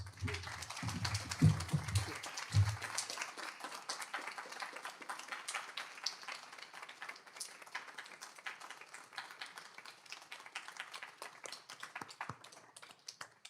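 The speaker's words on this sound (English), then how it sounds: "If we could all just give Lorna one last round of applause for coming out to visit us in Tucson" Applause and scattered clapping from a crowd, loudest at the start and thinning into steady lighter clapping that continues throughout.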